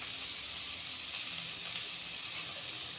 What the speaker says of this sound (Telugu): ఇవన్నీ కాస్త ఆయిల్లో ఫ్రైగా ఇవ్వాలి